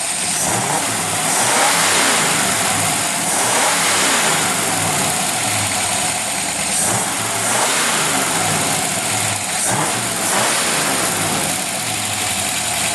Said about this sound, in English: Really want to try and get the carburetor sound for you guys.